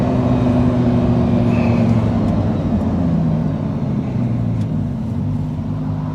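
A Lamborghini Huracan EVO LP640-4 gives a loud, steady low engine drone with a deep rumble that holds close and constant throughout, with no clear rise in pitch.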